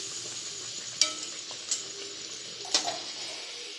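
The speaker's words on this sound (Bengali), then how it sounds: "এইভাবে পরপর ভাজতে হবে সবগুলোই" Sattu-stuffed kachori deep-frying in hot oil, a soft steady bubbling sizzle punctuated by a few sharp clinks and splashes from a utensil.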